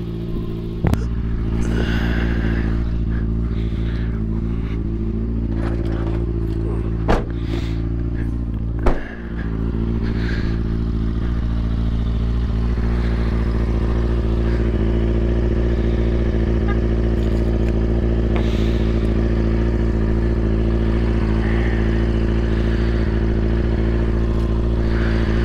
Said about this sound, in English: I'm about to get on the bike and we'll see what I do.